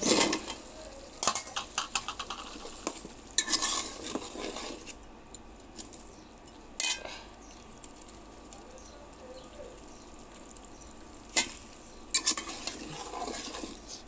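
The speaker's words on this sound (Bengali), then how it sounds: "আজকে ফুলকপি কষাই দিলাম" Cauliflower being sautéed and stirred in a pan in a home kitchen, with repeated clinks and scrapes of a utensil against the pan, bursts of stirring separated by quieter stretches and birds faintly audible in the background.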